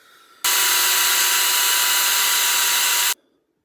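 A carbide rotary bit grinds into a carbon fibre outer barrel for an airsoft AR15 gas blowback rifle, a loud, steady high-pitched whine that starts abruptly, holds for nearly three seconds, then cuts off cleanly.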